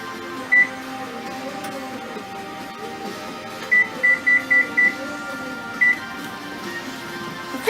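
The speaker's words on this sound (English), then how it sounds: "Set my timer." A kitchen timer chirps short electronic beeps as it is set for baking bread: one beep, then a quick run of five, then one more, over a low steady hum.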